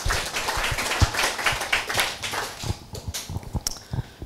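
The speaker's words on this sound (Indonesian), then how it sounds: "Tepuk tangan." A scattered round of hand clapping from a small audience at a farming discussion gathering: uneven, nearby claps that thin out toward the end.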